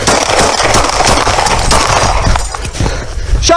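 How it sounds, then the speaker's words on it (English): Police gunfire at a knife-wielding suspect outside a motel, a loud burst of several sharp shots over a noisy, chaotic scene, with no clear voices. "Shots fired! Shots fired! One subject down."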